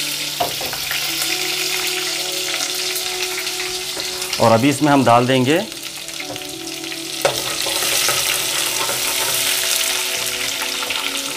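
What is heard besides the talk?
ginger and garlic frying in pan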